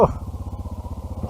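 Motorcycle engine, an Africa Twin or DR650 adventure bike riding through a forest, rumbling with a steady low pulsing idle after the rider misses the throttle, close and fairly loud throughout.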